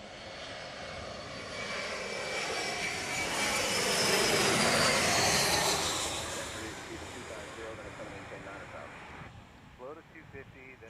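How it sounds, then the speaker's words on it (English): An American Airlines jet arriving at Chicago O'Hare roars in as a broad jet engine rumble, swelling louder toward the middle then fading, with people talking over the tail end. "that's American 3367 coming in from Bloomington, Illinois"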